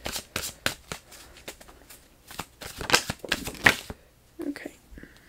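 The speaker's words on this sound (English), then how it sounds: "I'm gonna shuffle on camera this time." Tarot cards being shuffled by hand in a close, quiet ASMR setting: repeated crisp riffling bursts in an uneven rhythm over several seconds, ending with a few softer taps.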